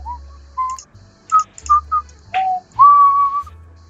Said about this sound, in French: Ça c'est une musique de animaux ici.